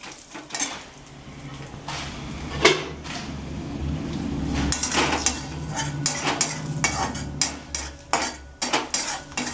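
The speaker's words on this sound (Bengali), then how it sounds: "5 ফোড়নটা দিয়ে দিলাম। দিয়ে ভালো করে ভেজে নিলাম 5 ফোড়নটাও" Panch phoron spices frying in a pan, stirred with a metal utensil: repeated sharp scrapes and clinks against the pan over a low sizzle, getting busier toward the end.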